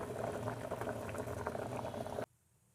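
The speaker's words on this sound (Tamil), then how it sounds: "கீரையும் பாசிப்பருப்பும் நல்லா வெந்துருச்சு பாருங்கள்." Agathi greens and moong dal boiling in a pot, a dense bubbling and popping that continues steadily close up, then cuts off abruptly near the end, with no voices.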